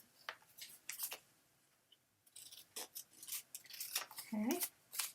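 Scissors snipping the corners of paper pieces for a handmade fairy-themed mini album, a few short crisp cuts scattered through the clip with a soft voice talking in between.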